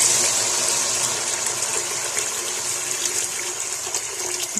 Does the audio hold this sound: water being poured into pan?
yes